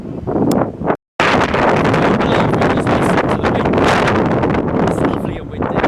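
Strong wind buffets the microphone in a loud, continuous roar at Blackpool Pleasure Beach, briefly cutting out before resuming its harsh rushing gusts.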